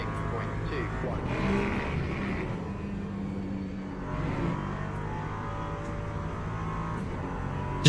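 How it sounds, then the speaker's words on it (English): V6 race car engine in the sim racing game Le Mans Ultimate, a steady high revving drone with shifting pitch as the car accelerates, loud and continuous, with a voice talking over it. "Little V6 engine singing. Sounds brilliant."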